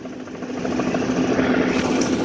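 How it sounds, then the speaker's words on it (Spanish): A helicopter circles over a large fire in Portland, its engine drone and rotor throb steady and moderately loud with a low, constant hum. "vean el helicóptero"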